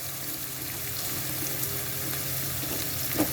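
Eggplant pickle fries in a pan of oil, giving a steady, soft hiss and sizzle throughout with a faint clink near the end.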